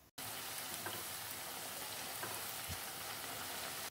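Batter fritters frying in hot oil, a dense continuous sizzle and crackle with small pops, close and steady throughout after a brief silent start, with no voices.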